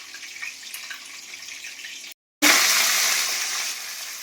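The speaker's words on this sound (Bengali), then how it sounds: "এটা ভাজা হোক।" Five-spice seeds and dried chillies frying in hot oil in a wok, with a steady close sizzle that cuts out briefly and then returns louder and hissier.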